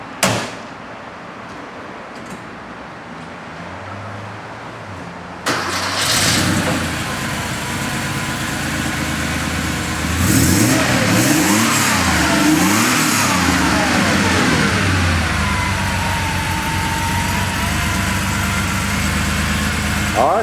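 A 1987 Porsche 930 Turbo Slant Nose starts up after a quiet moment, then settles into a loud idle with repeated revs rising and falling, close and without talk.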